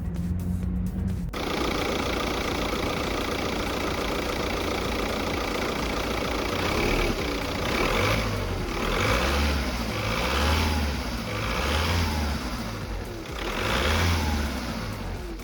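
An Audi A3 2.0 TDI diesel engine idles after a turbo repair, with a steady drone and a few gentle revs rising and falling, recorded close with no talking.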